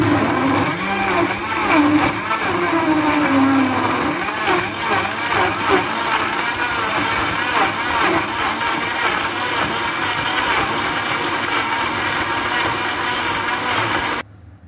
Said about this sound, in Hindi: तो अब हम ब्लेंडर में इसको ब्लेंड करते हैं।